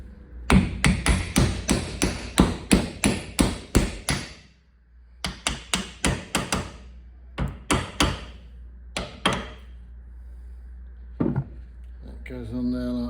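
Sharp hammer taps on a constant velocity joint being fitted to a VW Golf Mk3.5, struck in quick repeated bursts of about a dozen blows, then a pause and several more scattered strikes, close and loud with no talking.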